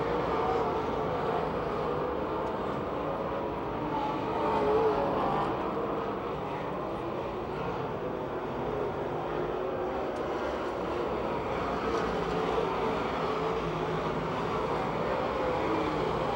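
Race cars roar around the Pennsylvania Motor Speedway oval near Pittsburgh, engines droning steadily from a distance in a continuous, even wash.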